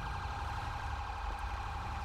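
A wailing police siren rises and falls steadily in Grand Theft Auto V with the LSPDFR police mod, mid-distance and moderately loud, with a low rumble beneath it.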